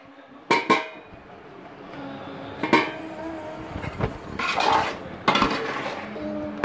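A cooking pot of tomato rice is opened, with sharp metallic clinks of the lid and utensils striking the pot in several separate bursts, close by, amid soft kitchen rustling.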